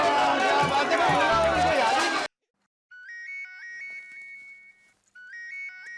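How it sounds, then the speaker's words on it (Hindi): Excited voices talk over each other, then they stop and a mobile phone's electronic ringtone plays a short repeating melody, clear and fairly loud, pausing briefly before it starts again. "सेठ जी का फोन है।"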